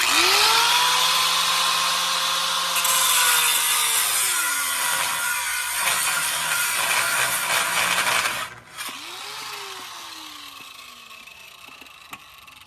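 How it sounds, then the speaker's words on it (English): An angle grinder's cutting disc slices beneath a rivet on a truck's lower control arm during a suspension and gusset job, a loud, sustained high whine with shifting pitch that cuts out near the end, then spins down after release. "we're going to use the cutting disc and get underneath that rivet like we did with the last one"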